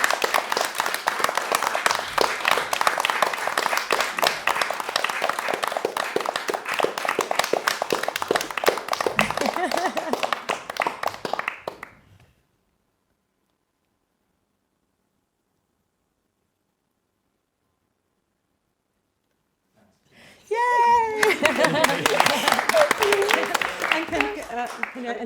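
An audience applauds composition prize finalists at a live prize event, with dense steady clapping for about twelve seconds. Silence follows, then another round of clapping begins with a voice briefly heard.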